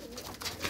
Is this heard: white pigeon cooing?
yes